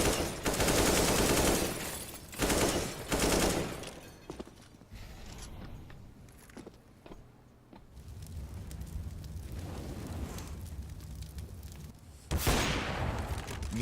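Rifle gunfire in a Counter-Strike match, loud bursts of rapid automatic shots in several clusters with brief quieter gaps, mixed with game effects and no talking.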